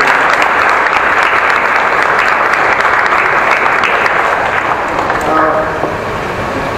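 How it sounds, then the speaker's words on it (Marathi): Audience applause welcoming film actress Priyadarshini Indalkar to the stage: steady, dense clapping from a large crowd throughout, easing slightly near the end. "त्यांचं आपण जोरात इथे टाळ्या वाजून स्वागत करतो"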